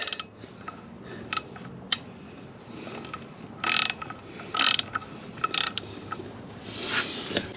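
A torque wrench is set to 83 foot-pounds during a clutch job on a 450, giving sparse close ratchet clicks and short bursts of clicking with brief pauses between them, with no voices.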